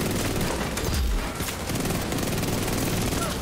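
Dense automatic gunfire rattles continuously in the video game Division 2, a loud, rapid fusillade of shots with no pause across the whole stretch.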